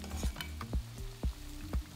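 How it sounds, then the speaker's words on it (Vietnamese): Battered chicken cartilage fries in hot oil with a steady sizzle, broken by four evenly spaced knocks about half a second apart, like utensils tapping the pan. "Các bạn có thể chiên sụn gà này thành 2 lần cho giòn."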